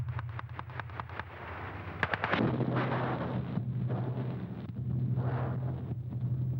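Artillery shells bursting over a trench battlefield in a war film, a rapid run of sharp cracks followed by a heavy blast and a long rumbling roar, with a low droning hum beneath.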